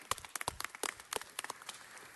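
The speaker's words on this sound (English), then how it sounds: "let's give him a round of applause" Applause at a city council meeting: scattered individual claps from a small audience, fairly faint and irregular, a short burst without talk.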